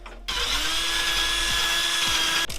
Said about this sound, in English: I'm going to have to drill this out and make it bigger.